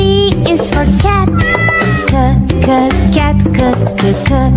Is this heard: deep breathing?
no